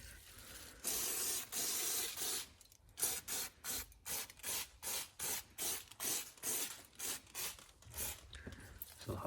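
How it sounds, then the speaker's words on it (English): An aerosol brake cleaner hisses onto a Mazda RX-7 FD brake caliper: two long sprays followed by a rapid run of about a dozen short, even bursts, close and fairly quiet, with no talking. "I'll spray the cleaner."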